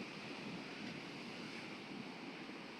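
Sea waves wash onto the shore at Hua Hin beach, a steady broadband roar of surf with wind rushing over the microphone, continuous and fairly distant, with no voices.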